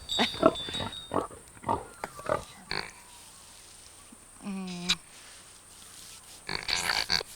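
A pig grunts and snorts close by in several short bursts, with one longer pulsing grunt midway and a squealing snort near the end, mixed with speech.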